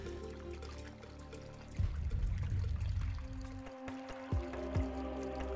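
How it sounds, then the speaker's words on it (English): Hot spring water at 109 degrees flowing at Avalon Springs, a soft pouring trickle that swells into a fuller gush partway through, with drips and splashes close by. "The main spring flowing at 109 degrees"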